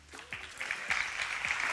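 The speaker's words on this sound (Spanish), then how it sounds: "Recibimos con un fuerte aplauso a Jesús de Paz" Audience applause welcoming Jesús de Paz, director of BIM infrastructure and digital transformation at Ingecid, at a Cantabrian tech business event; clapping builds quickly from a few scattered claps into a fuller, steady round, brief and fairly close.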